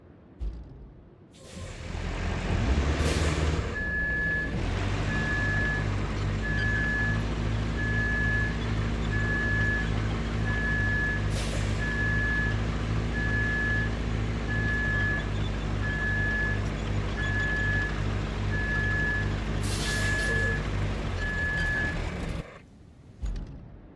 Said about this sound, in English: I know the thing's going forward, but it's making a beeping sound.